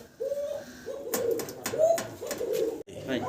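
A large pair of Mili racer pigeons coos close by in repeated soft, throaty phrases with brief gaps, mixed with faint rustling and clicks.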